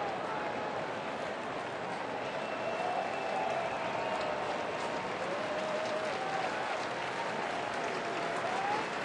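A sellout baseball crowd at a Pirates–Brewers night game in Milwaukee keeps up a dense, steady roar of cheering and applause that fills the whole stretch without letting up.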